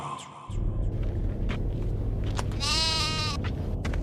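A sheep bleats once, loud and wavering, over a steady low rumble of background noise.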